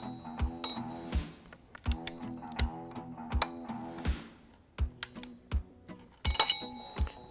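Metal hose clamps being tightened on a 1957 Chevy Bel Air fitted with a swapped-in LS engine, heard as a series of sharp, ringing metallic clinks and taps in an uneven rhythm, close and fairly quiet, with no talking.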